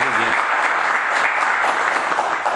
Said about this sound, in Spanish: primero un aplauso, que se lo merece